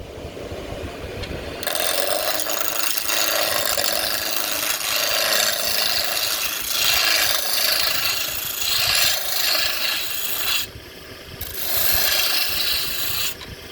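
A wooden spinning-top blank being rounded out on a lathe, the gouge rasping and scraping steadily against the spinning wood in long continuous passes, with a brief break near the end before cutting resumes, close and fairly loud.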